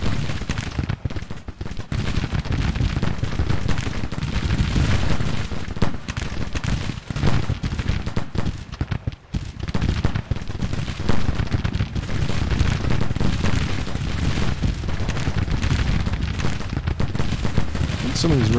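Musket volleys in the Civil War strategy game Grand Tactician: a dense, continuous roar of massed rifle fire and crackling shots that stays loud and unbroken throughout.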